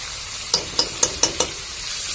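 Duck meat with salt and turmeric sizzling steadily in a pan while five quick, evenly spaced spoon scrapes or taps ring out near the middle.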